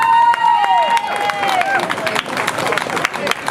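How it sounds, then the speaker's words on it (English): An outdoor crowd at a clean water rally applauds children who walked up on stage, a dense wash of clapping and cheering mixed with talk and babble, fairly loud throughout. "give a round of applause to those children who walked up on the stage"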